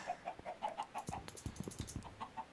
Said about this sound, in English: So, this is a good chicken coop, for those of you who are wondering.